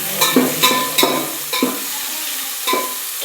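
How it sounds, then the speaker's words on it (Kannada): Capsicum frying in a pan, a constant sizzle broken by a series of quick spatula scrapes and taps, close and fairly loud. "ಒಂದು 2 ನಿಮಿಷ ಇವನ್ನ ಫ್ರೈ ಮಾಡೋಣ"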